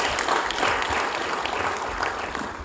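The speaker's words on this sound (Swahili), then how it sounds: "Tupigie makofi kwa mara nyingine tena." Audience applause at an award ceremony honouring a female driver, a steady, dense clapping from a crowd sustained throughout without pause, fairly loud and close, with no voices rising above it.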